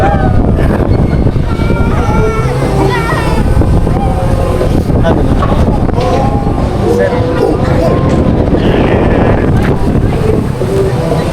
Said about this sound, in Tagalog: Nalanggap ko lahat ng hangin.